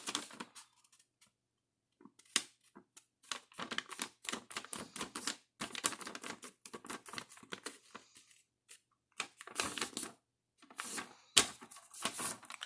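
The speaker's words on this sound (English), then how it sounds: "we're going to fold this edge onto this crease that we made" Origami paper being folded edge to a crease for a sunflower model, giving a run of crisp close paper rustles, taps and creasing snaps in irregular bursts with short silent gaps, no voice present.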